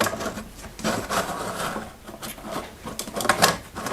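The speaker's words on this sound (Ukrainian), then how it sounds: "я одягаю кільце і добре його затягую" A metal cake ring is tightened around a sponge cake, producing close, continuous scraping and rubbing with small metallic clicks and ratcheting ticks near the end.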